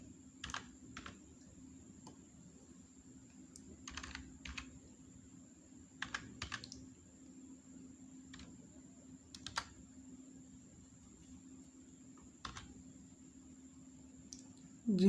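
Soft, close clicks of typing on a laptop keyboard while entering a Windows 7 search from the Start menu, scattered keystrokes in small bursts over a quiet, steady hum.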